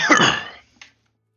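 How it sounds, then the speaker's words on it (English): A loud, close sneeze-like burst about half a second long, then a short pause and one small, quick cough, with silence after. "I did not mean to sneeze or cough in people's ears."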